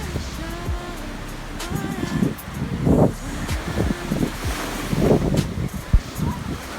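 Sea waves washing against the shore at Galle Fort, with broad rushes of surf rising and falling under steady wind noise and faint, indistinct background voices.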